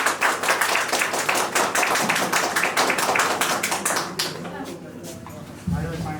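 Audience at a business pre-launch event gives a guest a hearty welcome, brisk rapid clapping at full strength for about four seconds before tapering off, with a voice speaking over the fading applause.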